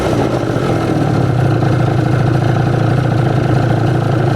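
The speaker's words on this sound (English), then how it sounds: "So it's pretty much coming straight down to idle." Scooter engine running at a steady, loud, close idle after a carburettor mixture and pilot jet adjustment, an even continuous putter with no revving and no voices.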